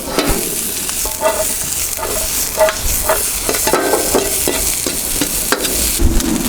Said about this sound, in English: In with the onion. Just cook this through for a minute.